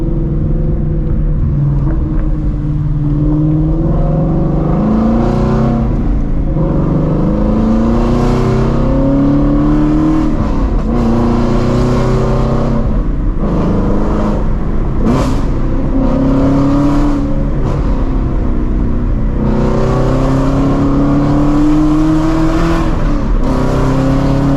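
A straight-piped Shelby GT350 roars through loud, hard pulls. Its rising engine revs repeat in several sweeps, broken by sharp downshift blips, and the exhaust stays very loud and close the whole time.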